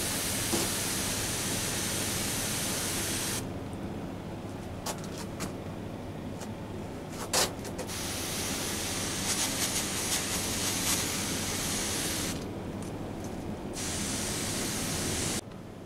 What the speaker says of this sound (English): It's another one that the roots want spraying